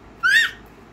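A voice imitates a crow's caw with a single short, shrill call that rises and falls, standing out clearly against a quiet room.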